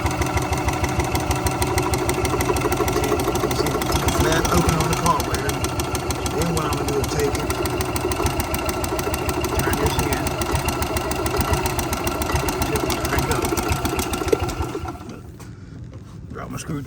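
A Club Car golf cart engine runs close up with a steady rapid chugging pulse, lifted slightly by a light touch of the gas during carburetor adjustment, then dropping quieter near the end.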